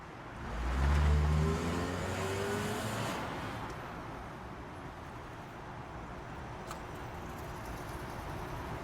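A car drives off on a night street, its engine revving loud and close before the sound fades into a lingering distant hum.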